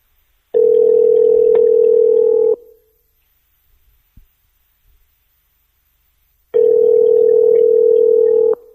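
A phone call rings out while waiting for an answer: two long, steady, loud electronic ring tones about two seconds each, separated by several seconds of near silence with faint handling noise.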